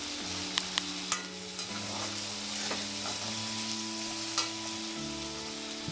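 Onions fry in a pan with half a spoon of turmeric for a masala upma, giving a steady close sizzle broken by a few sharp stirring taps over a faint low hum.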